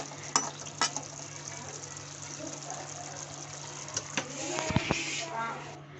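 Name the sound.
fried rohu fish pieces added to curry in pan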